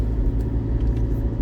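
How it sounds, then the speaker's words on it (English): A car passes on the road, heard from inside a moving vehicle as a steady low engine and road rumble, fairly loud and continuous with no talk. "That car there just passed me."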